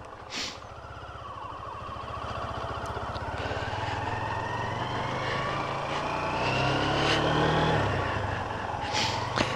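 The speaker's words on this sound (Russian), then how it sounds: "Вот так вот звучит его мотор." Lifan KPR200 motorcycle engine running during a test ride, a steady droning buzz that swells gradually as it revs, with a few sharp clicks or knocks along the way and no speech.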